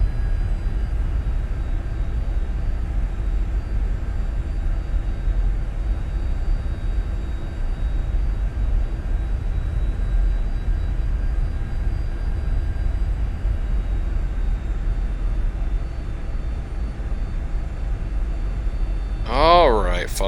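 A Citation 550 business jet taxiing in the X-Plane 11 flight simulator, a steady low engine rumble and whine held evenly throughout, with a brief rising sweep near the end.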